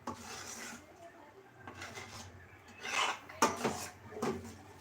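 A utensil scrapes and rubs against a cooking pot while food with salt and chili is stirred, in quiet uneven strokes that grow busier toward the end.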